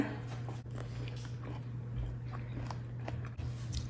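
Close, steady chewing and biting of spicy stir-fried minced pork with shrimp, squid and a Thai omelette over rice, soft rhythmic mouth sounds over a constant low hum.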